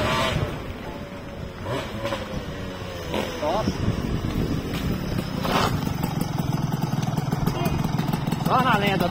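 A Yamaha DT 200 motorcycle engine runs under wind noise, its two-stroke drone rising and falling with a few throttle blips while people talk over it.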